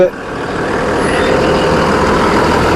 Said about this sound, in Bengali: বিভিন্ন দিকে বাসগুলি যায়, সরকারি বাস, এসবিএসটিসি, সিটিসি,